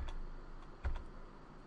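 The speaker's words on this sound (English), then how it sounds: "I've been tapping F8 on my keyboard" A computer keyboard's F8 key tapped repeatedly on a PC hit by ransomware while trying to boot into safe mode, with a few soft clicks and one louder tap in the middle of a quiet room.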